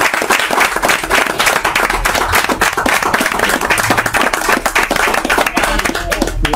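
A live audience at a rock concert claps and applauds loudly and densely, a sustained burst of many hands with scattered crowd voices underneath.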